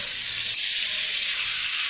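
Cut pointed gourd (parwal) fries in hot oil, a close, steady hiss of sizzling that holds evenly for a couple of seconds with no voices.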